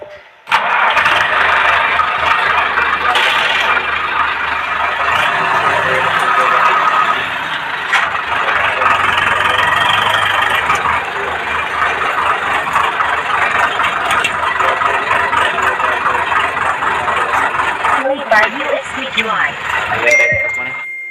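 A tractor engine starts up in a wheat field ahead of sowing, cranking and catching into a loud, steady mid-pitched running rumble with people talking over it throughout.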